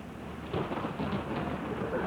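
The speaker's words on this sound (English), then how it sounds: "Here's thunder." A low, rumbling thunder roll sounds alongside steady rain, a continuous broadband wash with no voices.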